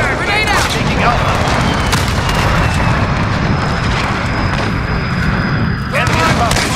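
A grenade detonation in Modern Warfare multiplayer on the Shipment map, a loud close boom amid continuous gunfire and battle noise, with automated announcer callouts over it.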